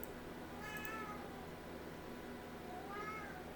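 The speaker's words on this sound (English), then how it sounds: "That's my sweetheart kitty that I rescued. He wants to go outside." A rescued pet cat wanting to go outside meows twice, faint and a few seconds apart, each call rising then falling, over a quiet steady room hum.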